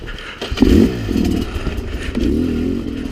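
A Sherco 300 SE-R two-stroke motorcycle picks its way over technical terrain, its engine rasping in short revving bursts close by, with clattering and scraping as the bike climbs.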